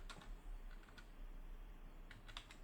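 Keys clatter on a computer keyboard as a Linux command is typed in a terminal, a few quiet bursts of clicks spread over a couple of seconds against a low steady hum.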